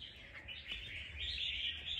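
Wild-caught red-whiskered bulbul (chào mào) giving faint, quick chirps over a low background hum, fairly distant and quiet, with no voices.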